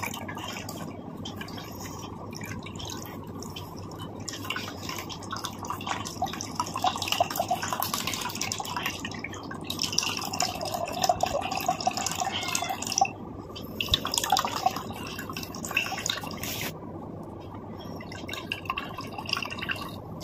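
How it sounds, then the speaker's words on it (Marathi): Milk being strained through a filter, trickling and dripping steadily at close range for the whole stretch as a continuous wet patter, with no talk over it. "आता हेच दूध मी काय करतोय, ह्याच्यामध्ये हे पहा गाळून घेतो"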